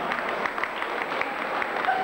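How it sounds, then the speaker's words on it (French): Crowd applause for race category winners at a community running event awards ceremony, a steady, fairly faint patter of clapping sustained throughout with no clear voices. "on peut les applaudir"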